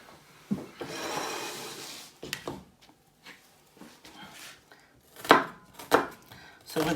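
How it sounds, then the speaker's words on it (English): Knife roughly chopping onions on a board while preparing a vegetarian quiche, giving several close, irregular chopping knocks with scraping and handling noise in between. "So with the onions, as I said, just roughly chop them."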